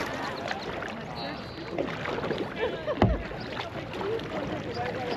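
A kayak glides on open water, with paddle strokes and gentle splashing against the hull, a steady wash of wind and water, and a sharper splash near the middle while people talk nearby.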